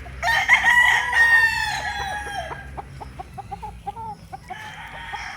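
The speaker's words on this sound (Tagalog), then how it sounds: "Mga manok nila rito sa farm." Roosters crow loudly and close on a game farm in Tanauan City, Batangas, one long crow followed by a run of short clucks and calls from other chickens nearby.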